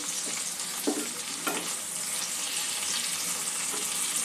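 Onion, ginger and tomato fry in a pan for a katla fish curry, making a constant bright sizzle with a few soft stirring taps near the start.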